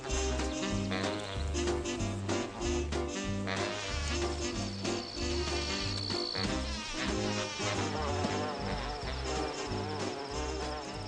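Solitary bees in a garden buzz steadily and closely, their whine shifting in pitch as they move, layered over a constant low hum with no talk.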